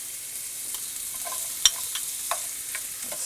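Speck and minced onion fry in olive oil in a sauté pan, giving a soft, even sizzle with a few light clicks and scrapes of a spoon stirring, close and without speech.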